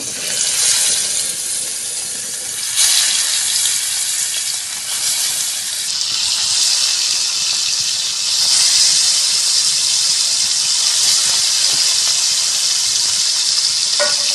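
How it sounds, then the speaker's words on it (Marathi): Masala-coated fish pieces fry in hot oil on a griddle over a wood-fired stove, a loud, close, continuous sizzle and crackle that swells as pieces are set down. "एक एक तुकडी ठेवते तव्यामध्ये"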